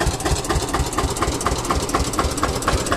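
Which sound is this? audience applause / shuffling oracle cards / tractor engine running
tractor engine running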